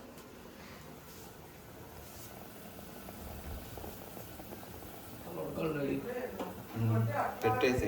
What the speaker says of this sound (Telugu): ప్రస్తుతానికి అయితే చికెన్ ఉడుకుతుంది